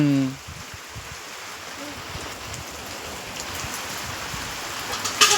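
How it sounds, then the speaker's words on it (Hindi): Rain falls steadily during a village monsoon downpour, a dense, even hiss of drops on surfaces throughout, with a voice briefly at the start and faint sounds near the end. "वर्षा पे तो खूब होছে"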